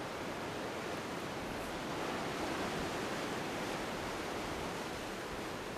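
Ocean waves break steadily on the shore, a continuous broad wash of surf and foam at low level, with no voices.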